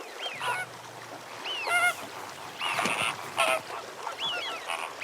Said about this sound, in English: greater flamingos are among the earliest visitors every winter